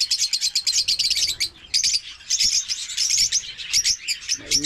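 African lovebirds chirp in rapid, busy bursts, a bright chattering flock close by with brief pauses between volleys.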